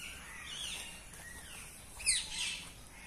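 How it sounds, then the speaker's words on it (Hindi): At Dilkusha Kothi garden in Lucknow, parrots and other birds shriek and chirp faintly from some distance, with one sharper squawk standing out near the middle. "तोता वगैरह चिल्ला रहे हैं, काफ़ी आवाज़ आ रही होगी आप लोग को।"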